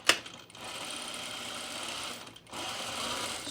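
Sewing machine stitching a French seam on a Franconia dress, pocket side up, running in two steady stretches with a short break; close and quiet, no voices.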